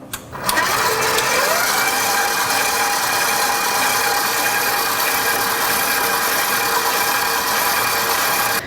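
An electric mixer runs while eggs are dropped into cheesecake batter one at a time, giving a loud, close, steady motor whir that starts abruptly and holds constant throughout with a slight shift in pitch early on.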